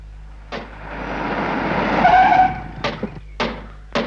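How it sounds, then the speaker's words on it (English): A car from a Captain Scarlet TV episode accelerates away at speed: a loud rising engine roar with tire squeal builds over a couple of seconds and fades, followed by several sharp thumps. "Captain Scarlet has taken the President at gunpoint to a nearby car, and they have now left, heading in a northerly direction."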